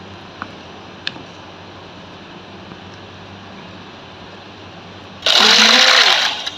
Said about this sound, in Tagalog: Blend ko na muna siya.